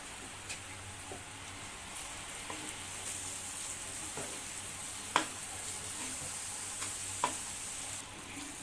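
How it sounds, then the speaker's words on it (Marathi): Peanut paste is stirred into homemade spice masala in a hot pan for a peanut amti, giving a soft continuous sizzle with occasional sharp clicks of the spoon against the pan, faint and close, with no talking. "आता यामध्ये तयार शेंगदाण्याचे वाटण टाकून ते मिसळून घेऊया"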